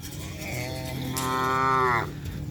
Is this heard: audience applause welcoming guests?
no